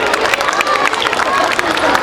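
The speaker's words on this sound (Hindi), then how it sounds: "राजेश ठाकुर जी हमारे बीच में है, एक बार इनका भी जोरदार ताली बजाकर स्वागत करेंगे।" A crowd at a school annual day function claps loudly to welcome a guest, a dense continuous patter of many hands, close and steady throughout with crowd noise mixed in.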